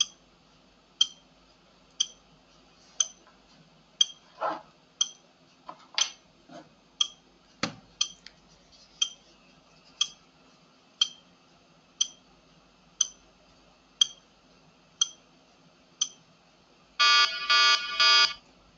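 A countdown timer ticks steadily, one sharp tick about every second with a few scattered knocks in between, then a loud pulsing electronic alarm sounds briefly near the end.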